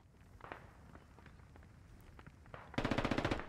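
A DShK heavy machine gun fires in the video game Squad, a short loud rapid burst near the end after quieter footsteps and scattered distant shots.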